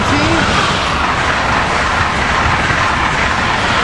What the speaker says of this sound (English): Here we got Cell Train 2165 headed south.